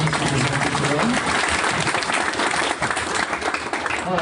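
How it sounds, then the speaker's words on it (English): An audience at a transportation meetup in Austin applauds the speakers, dense continuous clapping filling the room at close range throughout. "Let's give a round of applause for all three speakers today."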